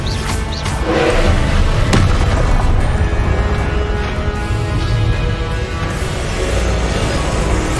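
Confringo blasting spell explosions in the Hogwarts Legacy video game, a dense, continuous barrage of loud booms and thuds layered over one another with sharp bursts standing out, with no pauses between them.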